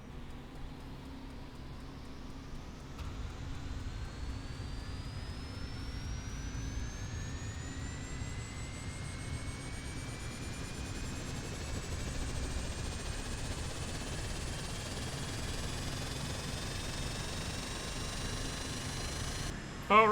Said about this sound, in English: Alright, the engine's fired up, we're all warmed up